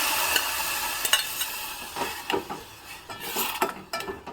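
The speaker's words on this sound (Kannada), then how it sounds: "ಚೆನ್ನಾಗಿ ಫ್ರೈ ಆದ ನಂತರ ನಾನಿಲ್ಲಿ ಇದಕ್ಕೆ ಈಗ ಮೊದಲೇ ಬೇಯಿಸಿಟ್ಕೊಂಡಿರುವಂತಹ ಬೇಳೆಯನ್ನು ಹಾಕ್ತಾ ಇದ್ದೀನಿ" Pre-cooked lentils go into a frying pan and get stirred, with scraping and clinking of a utensil against the pan over a light sizzle, in uneven bursts and no speech.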